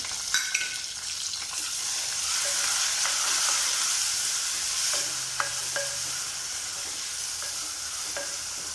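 Finely chopped tomato sautés with onions and slit green chillies in a hot pan for a small-sardine curry, a steady close sizzle broken by scraping stir strokes, with no talking.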